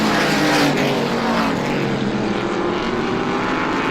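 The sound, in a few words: race car on speedway back straightaway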